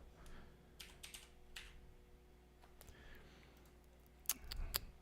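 Typing on a computer keyboard during a live tech chat: irregular light key clicks close by, with a quick, louder flurry of keystrokes near the end and no talking.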